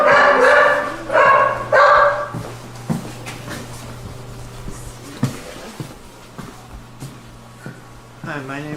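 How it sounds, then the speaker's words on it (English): Dog barking loudly at a veterinary clinic, a run of three sharp close barks at the start followed by scattered clatter and small yips. "Did you bring another dog in today?"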